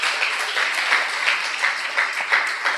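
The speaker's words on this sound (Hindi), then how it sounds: "क्यों ना जोरदार प्रभु यीशु मसीह के लिए तालियां बजाएं।" A church congregation claps for Jesus Christ during a Hindi sermon, producing steady, dense applause with repeated rhythmic swells throughout, with no talk over it.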